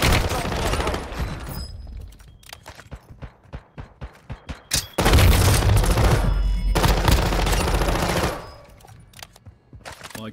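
An SMG fitted with a conversion kit fires in Warzone Mobile in rapid automatic bursts, with a dense opening burst, a run of distinct rhythmic shots, then a long loud sustained stream that drops off near the end, with faint talking underneath.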